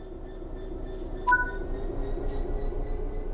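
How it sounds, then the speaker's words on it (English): In Train Sim World 3, a train begins to move under throttle with a quiet low rumble and hum of traction motors, a brief high squeal and faint clicks over the running noise. "Apply some throttle to get the train moving."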